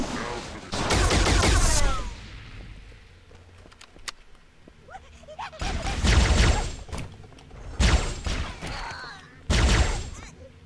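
Gunfire in the Halo SPV3 mod, several loud rapid bursts of shots separated by short quieter gaps, with voices heard between the volleys.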